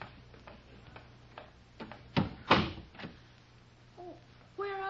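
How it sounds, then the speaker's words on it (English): Faint clicks and creaks of a wooden door being shut behind someone descending steps in the dark, a couple of knocks and a thud, with a voice briefly starting at the end. "I'll close the door after me."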